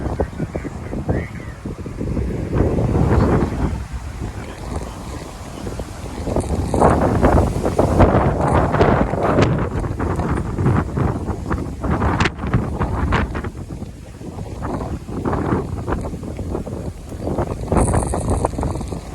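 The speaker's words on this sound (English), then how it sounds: "You hear the breeze going up." Strong wind gusts buffet the microphone outdoors, a loud continuous rushing roar that swells and eases for the whole stretch.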